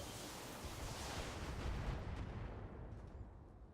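Mech weapons in the video game BattleTech unload in a dense, roaring barrage of overlapping blasts that swells and then fades over a few seconds, with no voices.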